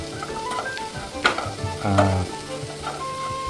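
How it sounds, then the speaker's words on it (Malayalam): Food is stirred and sautéed in a pan, with a close, brisk sizzle and a few sharp utensil scrapes and clinks against the metal over a few seconds, no talk. "നമുക്കിതൊന്ന് ഒന്ന് ഇളക്കി ഒന്ന് ഒന്ന് വഴറ്റിയെടുക്കാം"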